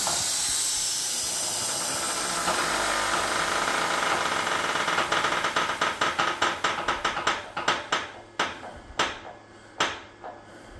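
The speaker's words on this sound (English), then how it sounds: "I'm going to shut the compressor off and lift the axle" Compressed air hisses loudly as a farm trailer's axle lifts, a steady hiss that breaks into a rapid series of pulsing bursts, slowing and spacing out into a few sharp puffs at the end.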